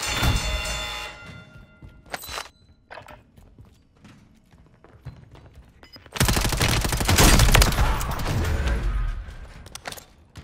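Gunfire in a Warzone match, scattered sharp shots and bursts early, then a long loud dense barrage of rapid fire in the second half, no talk.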